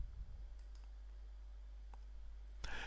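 A few soft, sharp computer mouse clicks spaced apart over a low steady hum, with one louder click near the end.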